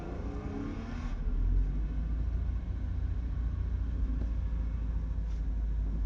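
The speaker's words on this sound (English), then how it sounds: "this little V4 sounds magnificent" A small Lancia V4 car pulls out onto the Goodwood track during a track day. Its engine swells into a deep, rumbling acceleration heard from inside the car, then holds a steady drone.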